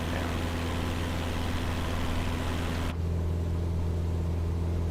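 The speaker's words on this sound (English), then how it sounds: "Wind noise is loud. As I turn the engine noise down." A Cessna 172 engine drones steadily in a flight simulator game, a constant low hum with rushing wind noise that drops away abruptly partway through as the level is turned down.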